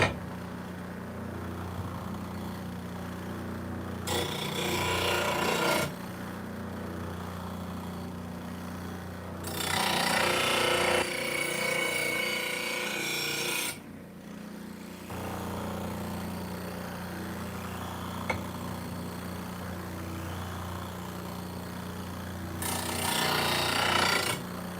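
A woodturning tool called Big Bertha being sharpened, heard as three rough grinding bursts of a few seconds each over a steady, humming machine drone.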